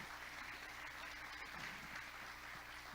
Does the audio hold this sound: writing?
no